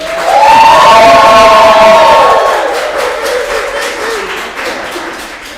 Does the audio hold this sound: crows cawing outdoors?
no